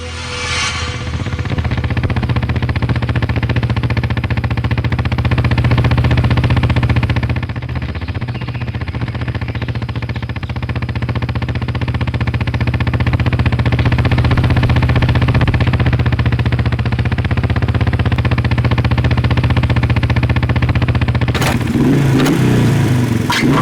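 A faulty motorcycle engine runs loudly and unevenly for a long stretch, its rough idle dipping and surging before a brief clatter near the end.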